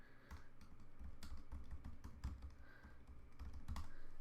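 A password is typed on a computer keyboard: quiet, rapid key clicks in an uneven rhythm, close by, lasting a few seconds with no speech.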